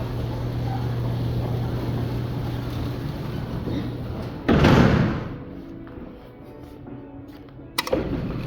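Westinghouse traction freight elevator door opening: a loud burst of rumbling, sliding clatter rises over steady machine hum, fades into quieter mechanical noise, then a sharp knock near the end.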